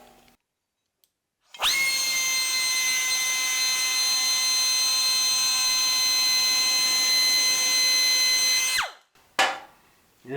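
Mini chamfer tool rounding over a metal edge for welding prep, a steady high-pitched motor whine holding loud and even for about seven seconds before cutting off, then a brief restart at the end.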